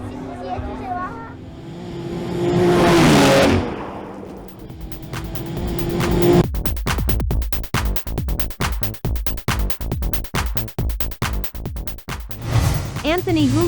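A BMW X3 M and a BMW M5 launch in a drag race: a loud roar swells and fades, then a long run of sharp, rapid engine bursts, with voices from the crowd nearby.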